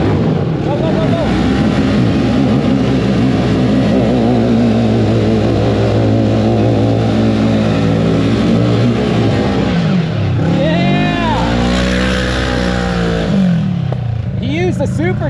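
Supercharged side-by-side UTV engine revving hard on ice, a loud, sustained close-up drone with rising and falling pitch sweeps and a deep dip near the end, with voices faintly underneath.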